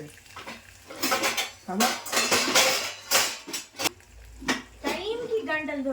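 Egg fried rice being stirred in a pan at home, with repeated clinks and scrapes of a utensil against the pan at an uneven rhythm, close up and mixed with someone talking.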